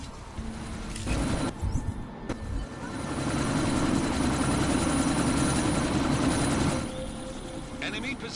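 A helicopter in Deus Ex: Mankind Divided roars with a dense, loud engine and rotor drone that builds and holds before easing off, with brief game voices around it.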